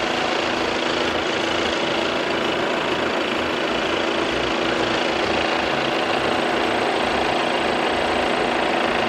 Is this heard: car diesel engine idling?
yes